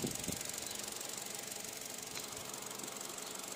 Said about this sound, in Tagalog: umaandar yung makina